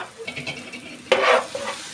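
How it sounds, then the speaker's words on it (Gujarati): Spices with Kashmiri red chilli powder sizzle softly in a hot pan over low heat, then a sudden louder hiss and scrape as they are stirred, close and brief. "આપણા મસાલા દાજે નહીં બળાય નહીં એ રીતે આપણે એના સોડવાનું છે ધીમા તાપે સોડવવાનું"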